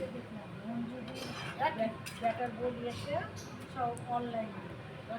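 A spoon stirs a pan of small shrimp with mixed summer vegetables, giving light clinks and scrapes of metal on the pan under steady talking.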